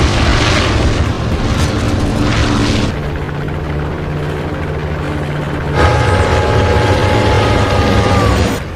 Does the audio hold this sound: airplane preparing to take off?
yes